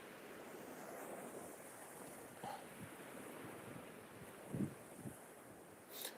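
Wind gusts across Eastney Beach on an October evening, a steady rushing roar with surf beneath it and a few brief buffeting thumps on the microphone.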